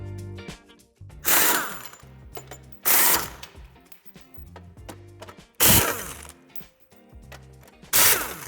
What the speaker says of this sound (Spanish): Quitaremos el refuerzo metálico con 4 tornillos a ambos lados.